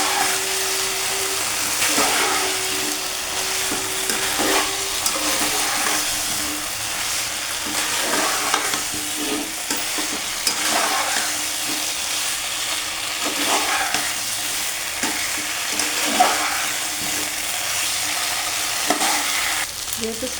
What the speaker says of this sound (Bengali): এটাকে ভালো করে মিশিয়ে নেব।